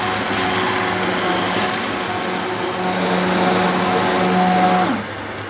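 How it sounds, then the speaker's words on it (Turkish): A hand blender whirs steadily while pureeing Çeşm-i Nigar soup in a pot, a loud continuous motor drone with a slight rise in pitch before cutting off near the end. "Blenderlara çekiyoruz."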